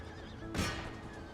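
A cavalry horse in the battle game Empire: Total War gives a single short whinny about halfway through, fairly faint, over a low battlefield hum with no talking.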